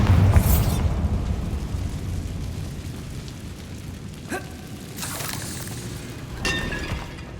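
A Bombarda spell blows apart a barricade in the wizarding game Hogwarts Legacy: a heavy, booming blast with shattering debris, followed by rumbling and a few sharper crashes as pieces fall.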